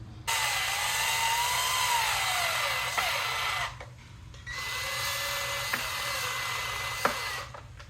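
A power drill drives screws at an angle to mount a replacement speaker in a 2024 Chevy Equinox/Blazer EV. Two long, close whining runs are separated by a short pause, with a few sharp clicks.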